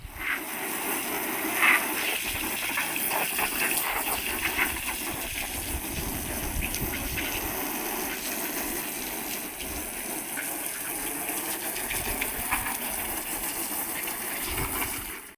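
Water gushes and drains steadily out of an Intex above-ground pool, a continuous rushing flow heard close with no talk.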